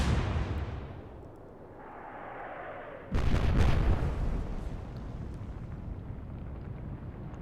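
Naval gun firing in the Atlantic Fleet game: a sudden loud blast about three seconds in, following a whistling rise, then a long rumbling roar and decay under steady wind-like background noise.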